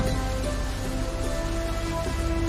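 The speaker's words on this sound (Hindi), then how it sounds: "ऊपर से बरसती हुई बारिश" Steady rain falls from above on a journey to Haridwar, a dense, even wash of drops that continues without a break and without speech.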